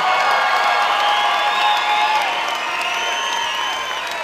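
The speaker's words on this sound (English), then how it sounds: "let's give these two women Muay Thai fighters one more round of applause" An arena crowd at a women's Muay Thai bout applauds and cheers loudly, a dense, sustained roar of clapping with whoops and high shouts that eases slightly toward the end.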